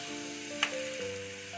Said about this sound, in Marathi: तर आता मी सगळ्यात पहिल्यांदा हे कढईमध्ये कांदा टाकून घेते आहे.